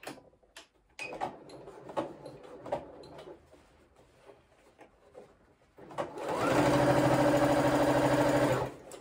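A heavy duty sewing machine stitching through six layers of denim: first scattered handling clicks and taps, then a loud steady motor whir of rapid stitching lasting a few seconds before stopping.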